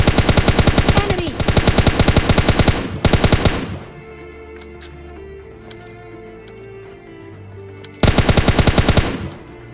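Automatic gunfire in a PUBG Mobile Lite fight comes in loud, rapid bursts. It stops for a few seconds, leaving faint scattered game sounds, then resumes.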